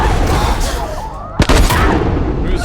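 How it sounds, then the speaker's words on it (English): Gunfire from an episode of The Last of Us TV series: one loud, sharp shot cracks out midway through a dense, roaring mix of action noise and commotion. "Who's shooting?"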